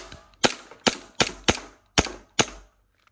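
Six sharp shots from a Glock 9x airsoft pistol, fired in an irregular rhythm a fraction of a second apart, each a loud snappy crack with a short decay, close up with no talk.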